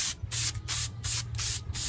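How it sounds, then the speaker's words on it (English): Aerosol spray can sprays a coating onto Kawasaki SS750/SX650 jet ski engine parts, battery terminals, hoses and clamps, four loud hissing bursts with short gaps between them, close to the mic and alone. "Just spray it on every little thing."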